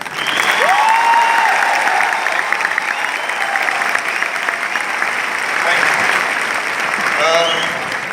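Audience clapping at a motivational training and success day event in Delhi, a sustained broad patter of many hands with a brief whistle-like tone early on and faint voices mixed in.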